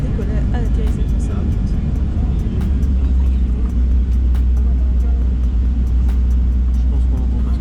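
Airliner aborting its landing at Rhodes and throttling up for a go-around, heard from inside the cabin as a loud, steady low engine roar that swells and deepens partway through, with faint cabin noises above it.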